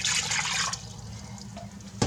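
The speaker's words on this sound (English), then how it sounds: "And to that, we're going to add 3 cups of water." Three cups of water pour into a pot holding cornstarch and cream of tartar for Turkish delight, a loud splashing stream for under a second that fades to a quieter trickle, with a short clink at the end.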